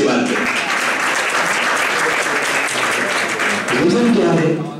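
An audience at a motivational lecture claps loudly and steadily for the whole stretch, a dense, even wash of many hands with voices faintly mixed in.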